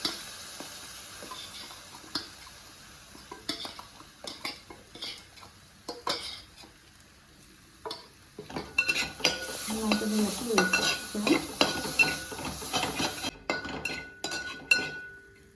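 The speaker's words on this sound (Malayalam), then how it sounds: "മസാല നന്നായിട്ട് വഴറ്റിയത് തക്കാളി ആഡ് ചെയ്യാൻ വേണ്ടി നന്നായിട്ട് വഴറ്റി കൊടുക്കാം" Prepared masala being stirred into browned onions in a pan for a chicken dish: close spatula scrapes and sharp metal clinks against the pan, sparse at first, then a busier, denser run of stirring over a soft sizzle, with no talk.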